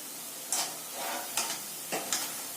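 Onion vada, a spicy Kerala snack, deep-frying in hot oil: a steady close sizzle broken by a few brief, louder stirring scrapes at irregular intervals, with no voices.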